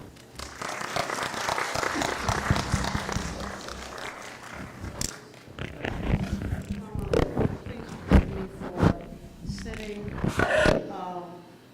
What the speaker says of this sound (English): Please, let's give a round of applause to our dear sister, Dr. Amina.